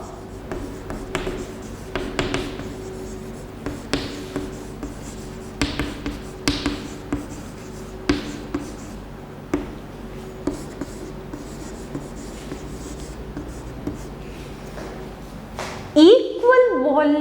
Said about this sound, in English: I will write here